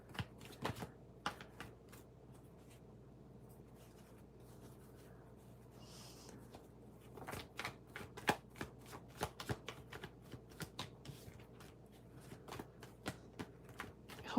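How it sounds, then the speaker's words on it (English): Tarot cards are shuffled at a live reading, giving repeated crisp riffling bursts, sparse at first and then denser and louder, with no talking. "Let me just shuffle the cards a little bit more."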